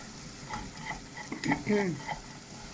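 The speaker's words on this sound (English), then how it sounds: "So keep stirring." Chilli glaze sizzling and frying in a pan while being stirred, with close scraping strokes and bubbling hiss in short bursts, fairly loud and alone.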